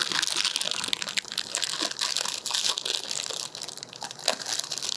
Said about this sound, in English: So I'm going to open up my bag of marshmallows.